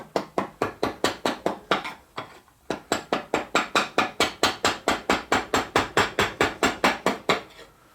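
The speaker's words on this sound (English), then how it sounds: "we're just going to take our chisel and slowly work at it until we get that area flat down to our line" Steady series of sharp, evenly spaced strikes, about three per second, with a short pause near the two-second mark, as a chisel is worked slowly across wood to flatten an area down to a marked line on a bench.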